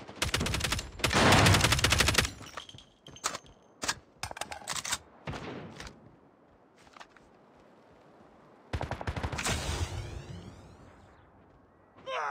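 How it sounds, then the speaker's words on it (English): Sentry gun in Call of Duty Mobile's Attack of the Undead mode rattling off rapid automatic bursts, a loud stream at the start, then scattered shots and a second long burst, with no talk. "Sentry gun deployed."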